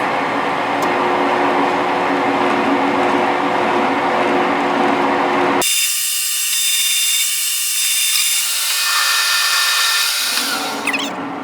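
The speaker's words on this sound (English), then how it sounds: "It's important to always use a lot of cutting oil whenever you're cutting threads on a lathe." A metal lathe cuts threads with plenty of cutting oil, a loud steady machining whir that shifts abruptly midway to a brighter, thinner tone before tapering near the end, with no talking.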